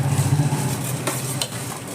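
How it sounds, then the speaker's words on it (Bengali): Jhal muri, spiced puffed rice, being tossed and mixed by hand in a bowl, giving a steady close rustling crunch with faint scraping throughout. "এবার ঝালমুড়িটাকে আমি মেখে নেব।"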